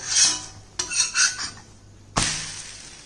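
A high-protein dosa being flipped on a hot pan: metallic scraping and clinks of a spatula against the pan, then two sharp clanks of the turn, close and clear with no talk.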